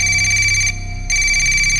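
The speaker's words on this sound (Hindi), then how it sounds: "कमरे में रखा उसका फोन बजा" A phone rings in a horror story, a steady electronic ringtone with bright repeating tones, loud and close, broken by a short gap of near silence before the ringing resumes.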